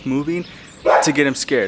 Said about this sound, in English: there's a dog over there, sorry for the barking